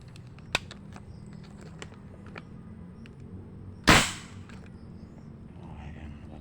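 A single shot from a homemade PCP air gun gives one sharp, loud crack with a brief tail, preceded by a faint click, over a steady low background hum and no speech.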